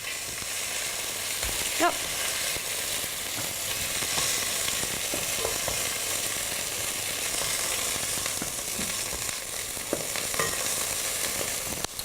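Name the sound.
chicken pieces browning and sizzling in a pan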